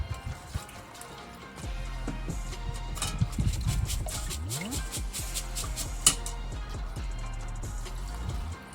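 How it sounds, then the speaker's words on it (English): Sushi rice being washed by hand in a bowl of water, with sloshing, dripping and splashing for several seconds, a low rumble underneath and no talk. "just wash it in the water for about 4 to 5 minutes, just so all the starch from the rice is removed"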